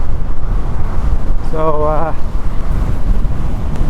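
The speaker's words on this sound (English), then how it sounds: "It's like a gale force wind coming from the ocean." Strong gale-force wind blows in off the ocean at a beach at sunset, buffeting the microphone with a constant loud rumble while someone speaks briefly over it.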